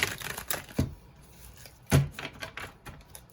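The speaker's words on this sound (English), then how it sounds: "Let me shuffle it one more time." Quick papery riffles and soft snaps of tarot cards being shuffled, a few bursts close by with a sharp flick near the middle, no voices.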